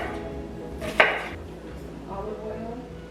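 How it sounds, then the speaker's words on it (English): A knife strikes once, sharp and close, while dicing onions on a cutting board, with a quiet room hum before and after the chop. "Cutting onions isn't my favorite thing to do"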